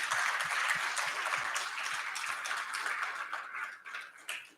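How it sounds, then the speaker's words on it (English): Sustained audience applause at an anesthesia patient safety conference, thanking the speakers and planning committee: a broad wash of many hands clapping at moderate distance, slowly thinning toward the end. "We give them another round of applause."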